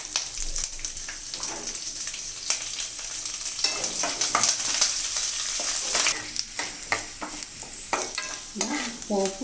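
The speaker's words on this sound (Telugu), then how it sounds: "వెల్లుల్లిపాయ ముక్కలు, ఎండుమిర్చి, ఆవాలు, జీలకర్ర మొత్తం ఈ పోపు అంతా వేసేస్తున్నాను" A tempering of garlic pieces, dried red chillies, mustard seeds and cumin seeds fries in hot oil for a Telugu cluster-bean garlic fry, with a continuous close sizzle broken by crackles, pops and stirring scrapes.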